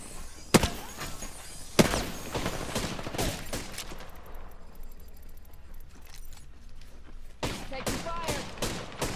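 Apex Legends gunfire, sharp loud shots and rapid bursts cracking at the start and returning near the end, with a calmer rattling stretch between.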